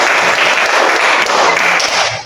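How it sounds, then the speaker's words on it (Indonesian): Classroom of pupils giving a short, loud round of applause for an answer in an Indonesian lesson, brisk close clapping that stops abruptly after about two seconds. "Tepuk tangan."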